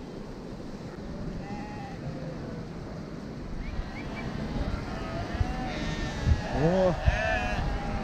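Sheep bleat outdoors near the sea, several wavering calls at moderate distance over steady wind and surf, with a brief spoken word early on.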